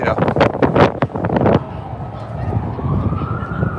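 On a cold, windy city street during a riot, a police siren wails in the distance with a slowly rising tone, following a burst of loud nearby voices and wind noise.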